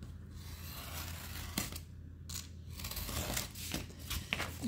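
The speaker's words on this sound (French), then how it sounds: "Je coupe tout le carton qui est en dessous en fait." A utility knife slices through cardboard on a tabletop in short scraping, tearing strokes, faint and close, with no talking.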